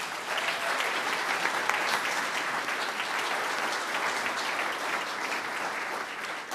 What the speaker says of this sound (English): I'd like to give a big round of applause to our Tulsa Symphony Ensemble this morning